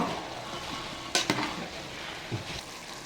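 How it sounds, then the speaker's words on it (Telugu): A cooking dish sizzling in a pot is stirred up from the bottom, with a low steady frying hiss and a couple of sharp scraping clinks of the spoon near the middle. "అడుగు నుంచి పైకి ఒకసారి కలుపుకుంటాం"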